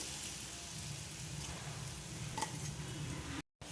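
Grated coconut frying in hot oil in a kadhai, a continuous soft crackling sizzle at low volume with an occasional faint clink, cutting out abruptly near the end.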